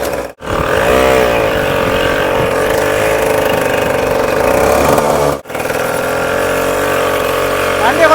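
Engine of a homemade Mahindra-style mini jeep running loud and close with a steady buzzing drone, briefly cutting out twice before picking back up.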